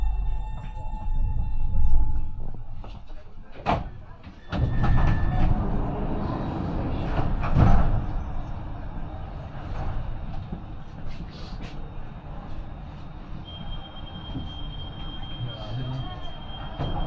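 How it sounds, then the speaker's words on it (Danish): A Copenhagen Metro M3 train runs on the City Circle loop, heard from inside as a steady low rumble with brief squeals and clunks, while a voice speaks over it. "This train is the M3 line via Frederiksberg."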